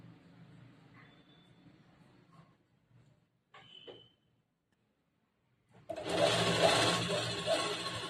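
A sewing machine stitches polyester fabric for an A-line kurta, starting abruptly after a quiet stretch with faint handling sounds and running loud and steady for about two seconds to the end.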